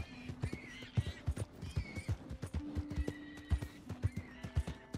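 In Red Dead Redemption 2, a horse whinnies in drawn-out calls over the steady clip-clop of its hooves, which beat in a regular rhythm throughout, close and clear.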